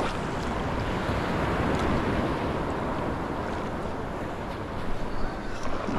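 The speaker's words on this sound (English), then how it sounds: "The waves making them get away." Ocean waves breaking against a jetty at Maracas, a loud continuous wash of surf mixed with wind buffeting the microphone.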